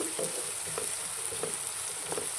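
Chopped dondakaya (ivy gourd) and onions frying in a pan, a soft, even sizzle with faint periodic stirring scrapes, steady and close, with no speech.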